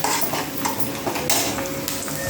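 Onions sautéing in a pan are stirred with a spoon, close scraping and light clinks of utensil on metal over a soft, continuous sizzle.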